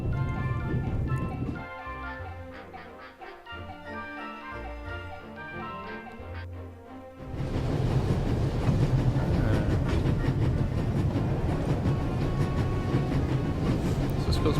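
Train running on rails in the video game The Raven, at full speed: a steady rumbling roll with faint clatter, quieter under music at first, then loud and continuous alone for the second half.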